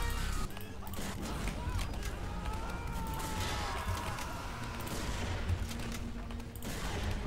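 Team Fortress 2 match with a sniper rifle, Bazaar rifle, amid dense, continuous game noise: overlapping gunfire and crashes throughout, loud and busy, with a voice talking over it.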